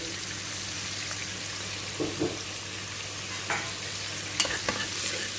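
Spice powders (black pepper, coriander, cumin, turmeric, baharat) being stirred into rice with fish frying in a pan, a steady sizzle with a few soft scraping stir strokes, close and alone.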